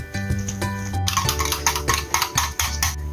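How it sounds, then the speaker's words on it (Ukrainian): A spoon scrapes and clinks around a bowl, stirring egg yolks, sugar and sour cream steadily with quick rhythmic strokes, close up, after a brief low hum at the start. "Розмішуємо."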